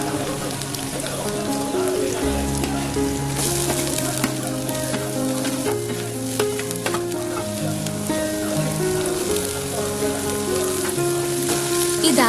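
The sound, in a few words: green chillies and onions frying in a pan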